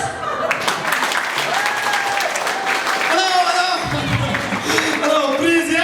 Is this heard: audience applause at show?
yes